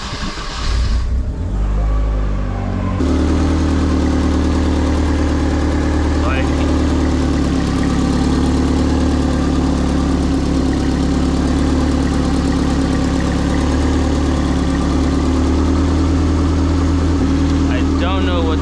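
A Nissan 240SX engine with an exhaust leak idles steadily with a low, even rumble after a brief start, running continuously and fairly close.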